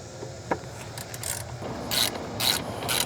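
Ratchet clicks under the front seat of a Tesla Cybertruck as the front seat screws are worked loose, a few short bursts of mechanical clicking with quieter handling between, close by and fairly soft.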